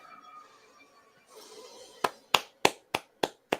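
Six sharp hand claps come in an even rhythm, close and clear, after a quiet stretch of faint background sound from a film playing at a horror movie watch-along.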